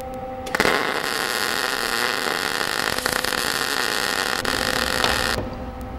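A Lincoln MIG Pak 10 MIG welder runs a bead of about one and a half to two inches, a steady loud crackling hiss that starts abruptly, holds for about five seconds, then cuts off.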